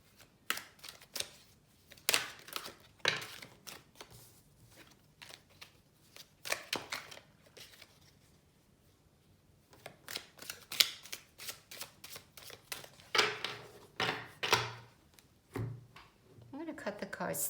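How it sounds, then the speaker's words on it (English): Tarot cards are shuffled and cut by hand in repeated quick riffling bursts with pauses between them, close and fairly quiet, while a person talks softly between the bursts. "Cut the cards 3 times to the left, restack them."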